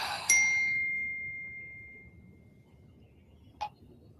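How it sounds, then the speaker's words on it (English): A phone notification chime rings out once, bright and clear, and decays slowly over about two seconds, followed by a second short, fainter ping a few seconds later in an otherwise quiet room. "I'm going to try to silence my notifications right now because they are coming through like crazy."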